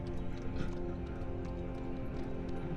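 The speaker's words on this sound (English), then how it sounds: "That was the tree fall sound effect." A falling-tree sound effect in a fantasy tabletop role-play session, a faint, steady patter that resembles galloping hooves and runs continuously for a few seconds.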